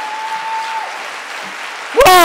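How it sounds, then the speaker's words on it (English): Congregation applause at a Kaimuki Christian Church memorial service for Pastor Ron Arnold, a broad steady wash of clapping from a large crowd with a whistle-like tone early on, then a voice breaking in loudly at the end. "I'm going to ask for another round of applause, but wait, a louder round of applause, a more powerful round of applause"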